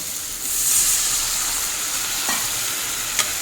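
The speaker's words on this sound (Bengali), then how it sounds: "এখন দিয়ে দেবো এর মধ্যে পরিমাণ মতো জল" Water goes into a hot pan of prawn and potato curry. A sudden loud steamy hiss rises and settles into a strong, even sizzle, with one small clink near the end.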